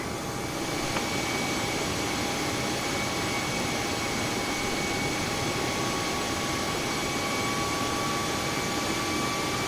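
Jet airliner engines roar steadily during takeoff on runway 34 left, a loud continuous broadband rush with a faint high whine running through it and no talk.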